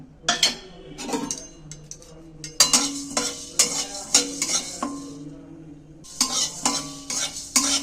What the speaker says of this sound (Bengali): মশলা বলতে ধনে আর জিরে আমি এটা শুকনো খোলা ভেজে নেব